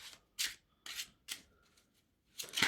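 A deck of cards is shuffled in a series of separate soft riffling bursts, four or five quick brushes set apart by short pauses, near and quiet, with no voices.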